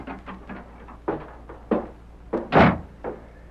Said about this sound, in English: Red Murphy looked up in surprise at the sound of the door.